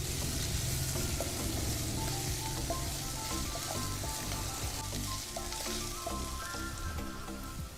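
Croquette filling sautéing in a pan, a steady crackling sizzle with light stirring scrapes, close and constant, with no talk.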